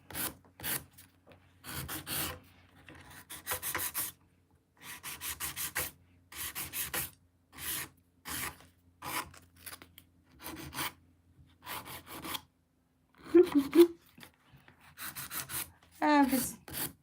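Nail file rubbing against a hybrid acrylic nail while shaping and smoothing it, short rasping strokes coming in bursts with brief pauses, close and fairly quiet, with no talk.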